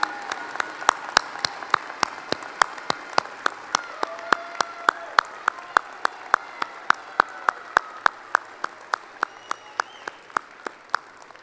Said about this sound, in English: let us show our appreciation with a round of applause